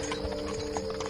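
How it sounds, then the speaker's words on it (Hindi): Three horse-drawn carriages approach, hooves clip-clopping in a rapid irregular rhythm over a steady tonal hum, fairly loud and brief. "वाह, 3 घोड़ा गाड़ी वाले, वो तो इधर ही आ रहे हैं।"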